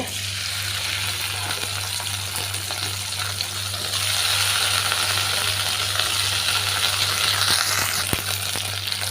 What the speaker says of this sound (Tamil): இப்போ வந்து தனியாக வறுத்து வச்சிடலாம் இப்போ அதே கடாயிலேயே வெண்டைக்காவும் வதக்கிக்கிறலாங்க